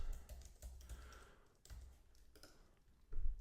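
Typing on a computer keyboard, a quiet, steady patter of close key clicks with a few louder taps, no talking.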